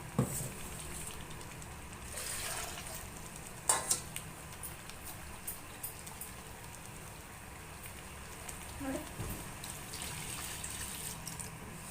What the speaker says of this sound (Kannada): ಸ್ವಲ್ಪ ನೀರು ಸೇರಿಸ್ಕೊಳ್ಳೋಣ ಜಾರಿಗೆ ಹಾಕ್ಬಿಟ್ಟು ನೀರು ಸೇರಿಸ್ತೀನಿ ನಾನು